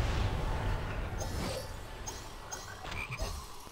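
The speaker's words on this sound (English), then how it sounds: "That chocolate frog approached me this time." A chocolate frog in the Harry Potter and the Goblet of Fire video game croaks several times, short croaks standing out over a low ambient rumble.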